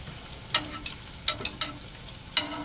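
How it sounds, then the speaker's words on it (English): Bacon frying in a pan gives off a soft, steady sizzle broken by a handful of sharp crackles and pops at irregular intervals. "Before I put my seasoning mix in, I'm going to go ahead and flip the bacon."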